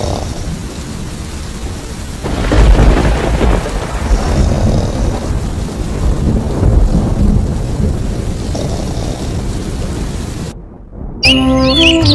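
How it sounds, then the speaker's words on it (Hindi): Heavy rain pours steadily while a deep roll of thunder rumbles through, then a brief pause before birds chirp over the rain. "बाहर बारिश अब भी हो रही थी"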